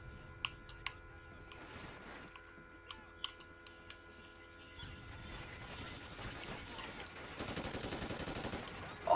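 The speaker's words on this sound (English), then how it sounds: "Start shooting some noobs." Call of Duty Ghosts gameplay gunfire: scattered sharp shots early, then denser sustained firing toward the end, at moderate level over a steady game background.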